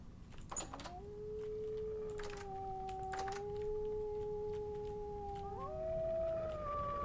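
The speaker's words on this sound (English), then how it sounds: "Oh, we actually got a pair of wolves." A pair of wolves howl in the survival game Vintage Story, long wavering tones rising and sliding against each other, fairly loud and sustained, with a few sharp clicks near the start and no talking.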